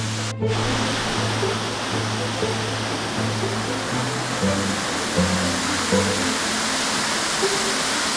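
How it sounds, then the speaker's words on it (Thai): Nakharat waterfall roars as a dense, steady wash of rushing water that fills the scene at close range, with a low tonal hum running beneath it throughout. "ตอนนี้ผมมาถึงน้ำตกแรกนะฮะ คือน้ำตกนาคราช"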